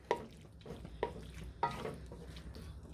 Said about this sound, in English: I've added in the chicken with the mushrooms and the onions, and I'm just going to give this a quick mix.